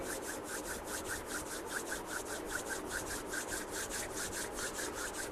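Two palms rubbed briskly together in a steady back-and-forth rhythm during a guided meditation, a close, continuous dry swishing with regular strokes and no talking.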